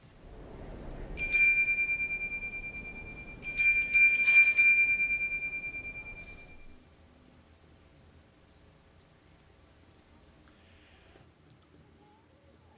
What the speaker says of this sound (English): can you put that bell up there one more time?